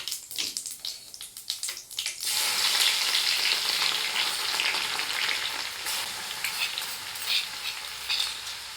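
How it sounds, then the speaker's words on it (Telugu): Mustard seeds, a little cumin and crushed garlic sizzle steadily in hot oil for a lemon pickle tempering, starting with a few scattered crackles and then a loud continuous fry with occasional pops, no voices. "ఆయిల్ హీట్ అయ్యాక ఆవాలు, కొంచెం జీలకర్ర"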